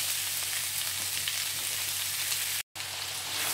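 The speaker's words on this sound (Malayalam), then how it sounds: "അപ്പം ഇനി ഇതൊന്ന് വഴന്ന് ഒന്ന് വെന്ത് വരട്ടെ കേട്ടോ." Vegetables sauté for chicken rice noodles in a pan, giving a dense, even sizzle of frying that holds steady throughout, broken by one brief dropout, with no voices.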